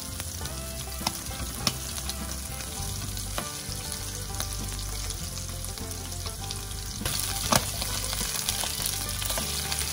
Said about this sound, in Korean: 이렇게 살짝 노릇노릇해졌을 때 가리비를 넣어서 한번더 볶아주세요.